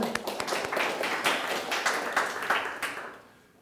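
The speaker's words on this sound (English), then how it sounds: "give a nice round of applause to Andrius" A Startup Grind audience in Vilnius claps for the speaker Andrius, a scattered round of separate hand claps with audible individual hits that thins out and fades at the end.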